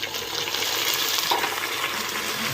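Onions fried with ginger garlic paste hiss steadily in a pan while being stirred, a dense continuous sizzle with soft scraping throughout and no talking.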